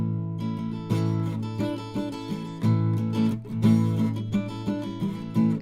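Acoustic-style guitar strumming a sus4 chord fingered as a bar chord, several close, full strums in a loose rhythm, each ringing briefly before the next, with no voice over it.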